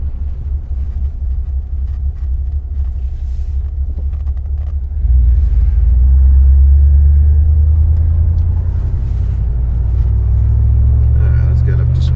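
A Chrysler New Yorker's engine rumbles low inside the moving car, swelling louder and deeper midway as it accelerates, with someone talking over it.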